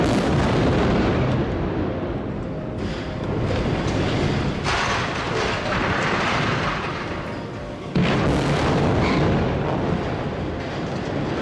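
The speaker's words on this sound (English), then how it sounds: "Part of an entire complex, collapsed in a series of calculated blasts." Rolling demolition charges bring down a building complex in a series of calculated blasts, a loud, continuous rumbling roar broken by sharper booms, with a fresh heavy blast near the end and no talking.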